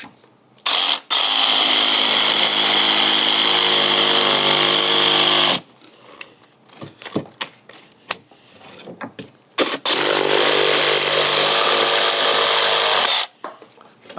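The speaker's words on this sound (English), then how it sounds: "I've started jigsawing pretty close over here. all I gotta do is just jigsaw close." Jigsaw cutting a curved trim detail for a cabinet foot in wood, two long loud bursts of buzzing blade with brief stops and small noises between them.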